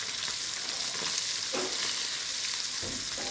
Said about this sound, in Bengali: তো এই যে মাছ ভাজা হচ্ছে,